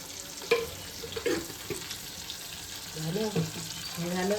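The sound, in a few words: taro leaf stalks frying in oil with spices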